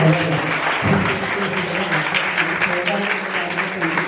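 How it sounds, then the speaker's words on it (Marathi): A crowd at a school health gathering for women and girls applauds the teachers with steady, moderately loud clapping, and speech runs over the top. "जोरदार टाळ्या आपण टीचर्स लोकांसाठी"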